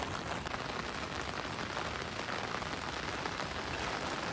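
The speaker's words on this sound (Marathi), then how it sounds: "आज तर पावसाचा जोर जास्तच वाटतोय मंडळी, कारण कंटिन्यू पाऊस म्हणजे सकाळपासून जो लागलाय तो लागलायच आणि मोठा पाऊस आहे" Heavy, continuous monsoon rain pouring down in Kharoshi-Durshet village during flooding, a dense, even hiss of drops on surfaces that stays constant throughout, with no voices.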